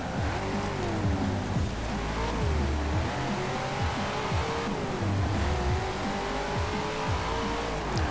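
A race car in a Forza Horizon 4 gymkhana event revs hard and accelerates through short bursts, its engine pitch climbing and dropping with gear changes and tires squealing, loud and continuous throughout.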